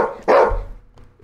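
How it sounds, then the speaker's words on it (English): A single sharp dog bark, fairly close and loud, followed by a faint trailing whimper. "that dog was barking"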